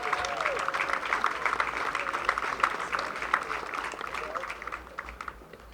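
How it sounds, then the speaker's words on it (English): A crowd claps in a round of applause at an evening baseball game, a loud sustained patter of many hands with scattered voices and a faint whistle, tapering off toward the end. "Let's give her a round of applause."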